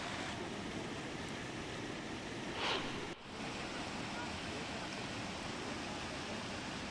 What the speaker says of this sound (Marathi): आपण बघतोय नदीचा प्रवाह मोठ्या प्रमाणात वाढलेला आहे